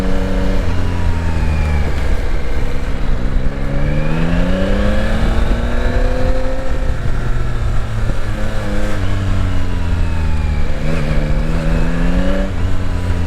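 Engine of a 2022 Yamaha Tracer 9 GT motorcycle pulling through rising and falling revs on a ride, steady and loud with continuous wind and road noise, no talking.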